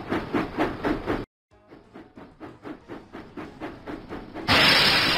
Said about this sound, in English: James puffed proudly into the Sodor Search and Rescue Centre